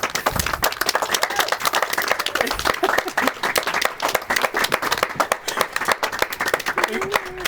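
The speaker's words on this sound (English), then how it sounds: "Family and friends, please join me in applause, both those streaming and those here." Wedding guests break into sustained, dense clapping and applause, close and lively throughout, with a few voices mixed in beneath the hands.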